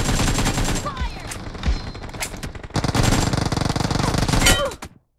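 Rapid bursts of automatic gunfire in PUBG Mobile, loud and close, one stretch breaking off before a denser sustained volley near the end, with faint game chimes in between.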